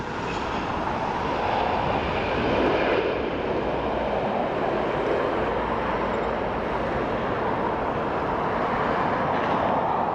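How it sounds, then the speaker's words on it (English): A Ryanair Boeing 737-800 jet airliner arriving at Dublin from Alicante makes a steady, moderately distant engine roar that swells slightly early on and then holds evenly, with no speech. "As we watch our Ryanair come in from Alicante"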